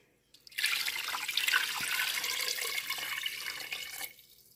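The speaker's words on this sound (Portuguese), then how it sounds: "Agora aqui eu vou acrescentar 1 litro de água." One liter of water is poured into a pot holding skinned, halved chicken pieces for a chicken pie, a steady close splashing stream lasting a few seconds with no talk.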